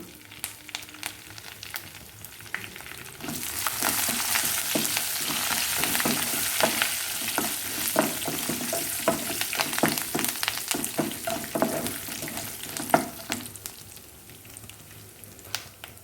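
Curry leaves and turmeric hitting hot tempering oil for a raw tamarind pickle: quiet at first, then a sudden bright sizzle that crackles steadily with stirring taps before easing off.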